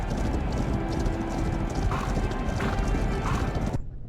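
Galloping hooves of a racing horse in the Rival Stars Horse Racing video game, a steady loud clip-clop rhythm filling the clip, with a brief whinny before it cuts off abruptly near the end.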